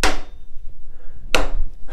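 Hammer knocking a part of a Brown & Sharpe milling machine's motorized knee gear case during removal, two sharp metallic strikes about a second apart, close and loud with quiet between them.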